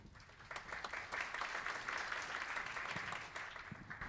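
A seminar audience at a railway technology safety session welcomes a research fellow with warm, even applause, moderately quiet and heard from a little distance, building then easing off slightly at the end.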